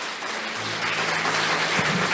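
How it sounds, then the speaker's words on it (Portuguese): Church congregation applauding, a dense, steady wash of clapping from many hands that fills the room at even loudness. "Vamos aplaudir o Senhor pela vida dos pequenos grupos"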